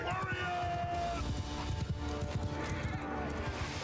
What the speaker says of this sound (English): Cavalry charge is happening right now, excellent.